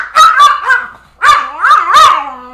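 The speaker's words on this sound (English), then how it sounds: "My dog is being real dramatic." A small pet puppy named Milo gives a dramatic run of close, loud yips and barks in two bursts, with whiny rising-falling tones and no talk over it.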